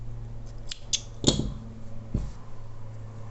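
Scissors snip crochet thread in a few sharp, close clicks, with one louder cut in the middle and a softer one after, over a low steady hum.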